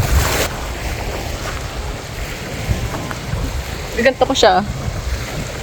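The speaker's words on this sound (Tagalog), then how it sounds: "Ang lakas po ang alon, lalo na sa labas." Strong wind roars and buffets the microphone over rushing sea waves at a beach, with a voice speaking briefly and some clattering near the end.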